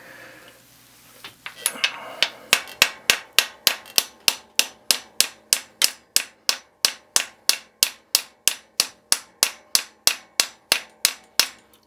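A hammer strikes a press-fit bottom bracket cup into a Gary Fisher bike frame with a long run of evenly spaced, sharp metallic taps, loud and close, after a few quieter, irregular knocks at the start.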